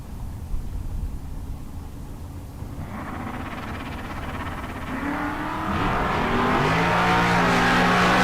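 Drag racing cars launching at a bracket race, including a Corvette Roadster, with engine roar building from a steady rumble to loud, rising revs and strong tonal engine harmonics by the end, no talk.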